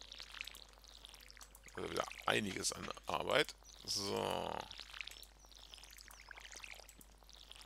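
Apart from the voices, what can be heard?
watering crops with watering can in Stardew Valley video game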